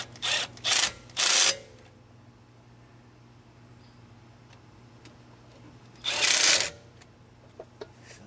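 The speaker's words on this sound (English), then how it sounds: "I'm just gonna set my impact wrench to a low torque setting, get them in there" An impact wrench snugs the front brake bolts on a 2014 Ram 1500, firing three short bursts in quick succession, then one longer burst after a quiet pause, close and loud in a quiet garage.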